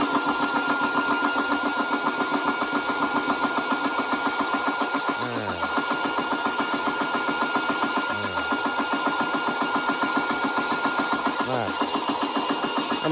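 A new Umarex air compressor runs steadily and close with a continuous mechanical chug and hum throughout, while brief rising tonal sweeps recur every few seconds over the constant drone.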